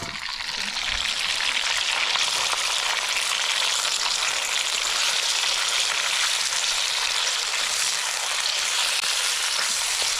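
Chopped onion and carrot fry in a large pot of hot oil for Uzbek plov, a loud, steady, dense sizzle that holds unbroken throughout with no voices.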